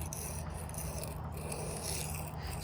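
A D2 tool steel knife blade scraped across a sharpening surface under heavy pressure gives a continuous close gritty rasping with a low steady hum beneath it.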